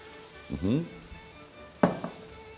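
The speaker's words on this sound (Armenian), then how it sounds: "մինչ կտապակվի սոխը" Onion fries in a pan, a soft sizzle under the surface with scraping stir sounds and short clatters near the end, while a voice murmurs briefly early on.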